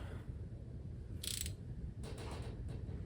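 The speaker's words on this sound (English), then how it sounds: "I might have grabbed the junkiest ratchet we have." A worn, old Taiwanese-made ratchet wrench in a garage reviving a 1967 Dodge Coronet 440 big block, giving short bursts of fast metallic clicking over a steady low rumble, close by.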